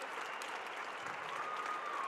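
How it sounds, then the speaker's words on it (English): Basketball crowd at a conference tournament game applauding a senior player, giving a dense, steady burst of clapping that fills the whole stretch with no break. "Now a big round of applause for Jonathan Buckley, the redshirt senior."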